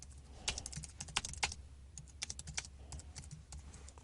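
Code being typed on a computer keyboard, with steady bursts of fairly close, crisp key clicks in irregular runs and short pauses, alone with no voices.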